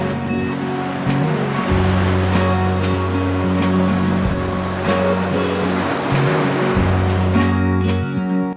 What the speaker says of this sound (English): This is one beautiful beach.